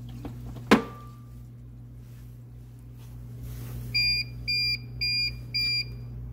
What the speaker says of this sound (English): you'll know that the power is out when you hear it beep